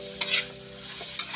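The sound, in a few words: sautéing in a pan before adding leftover rice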